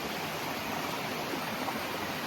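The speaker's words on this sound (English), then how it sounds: "There's like a whole creek in the middle of the forest." Steady broadband rush of a creek running through forest along the Appalachian Trail, a continuous even wash of flowing water with no other sounds.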